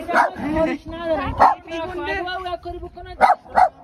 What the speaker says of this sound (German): Hunde gibt es auch, zwar kleine.